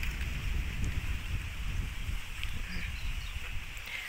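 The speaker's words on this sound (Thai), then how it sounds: "ลมแรงมากเลยจะได้ยินแต่เสียงลมหรือเปล่า" Strong wind roars steadily outdoors with a continuous rushing hiss and low buffeting rumble against the microphone, loud and unbroken throughout.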